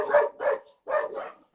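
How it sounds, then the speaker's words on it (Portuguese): Nearby dogs bark in four quick, loud, close barks, grouped as two pairs with a short pause between them. "Ai, meu Deus, cachorros aqui."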